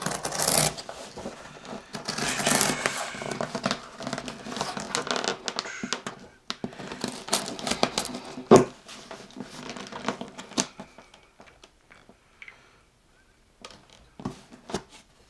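Close crinkling and snipping as a cardboard box is cut open with scissors and torn, in irregular bursts that thin out into occasional scrapes and quiet pauses.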